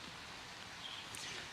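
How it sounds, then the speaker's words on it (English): Rain falls steadily over a city street in Suva, Fiji, a broad even hiss of droplets heard faintly and continuously at a distance, with no voices. "Yandra Edwin, we are waking up to more rain here in Suva City"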